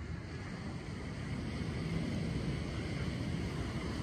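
Steady wash of surf rolling onto a shore, a continuous low roar with some wind rumble, no distinct voices.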